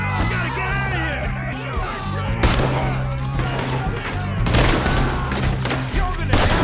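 Gunfire crackles in bursts during a Red Dead Redemption 2 shootout, with sharp volleys layered over music and shouting voices, loud and close throughout.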